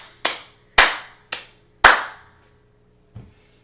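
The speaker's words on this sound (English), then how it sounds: "click your sticks together, just like this" Four sharp percussive claps or stick clicks in an irregular rhythm, close and loud, then a fainter fifth hit after a pause, in a grade 1 class music activity with rhythm sticks and hand clapping.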